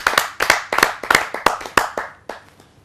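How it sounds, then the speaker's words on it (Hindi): Clapping from an audience at a televised Hindi kavi sammelan poetry recital, a few sharp, fairly close handclaps in an uneven rhythm that thin out and fade over about three seconds. "आप सबकी जोरदार तालियों से।"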